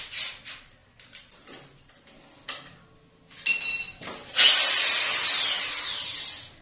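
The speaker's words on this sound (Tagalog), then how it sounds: "lagyan muna natin ng maliit guys na barena para hindi ma-persa yung size" Small drill bit boring a pilot hole while fitting a bowl and sink: a few short taps and bursts at first, then a louder close whine of the power drill rising and holding steady to the end.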